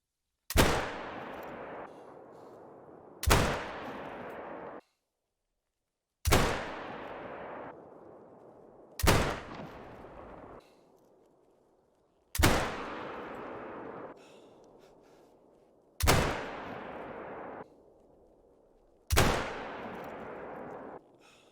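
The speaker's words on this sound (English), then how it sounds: "And that is 10 shots from 300 meters." Zagan .22-250 rifle shots fired at a 300-meter range in the hunting game theHunter: Call of the Wild, seven sharp loud cracks spaced evenly a few seconds apart, each with a short decaying echo.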